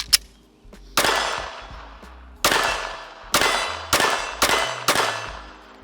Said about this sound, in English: So let's get to shooting.